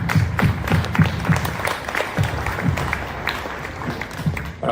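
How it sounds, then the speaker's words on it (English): Scattered, uneven hand clapping from an audience at a chess tournament, individual claps distinct rather than a dense roar, moderately close. "I think you can all clap yourself."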